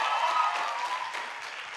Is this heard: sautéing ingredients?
no